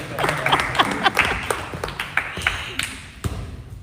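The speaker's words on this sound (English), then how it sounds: "Round of applause for our volunteers" Scattered claps from a small group of people applauding volunteers after a demonstration, irregular sharp hand strikes over about four seconds, fairly close and moderately loud, with a few voices mixed in.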